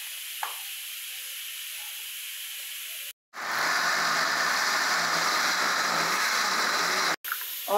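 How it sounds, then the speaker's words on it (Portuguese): A blender whirs loudly and steadily as it purées green corn kernels with water, starting after a quiet pause and stopping briefly twice. "Vou levar o liquidificador e bater muito bem."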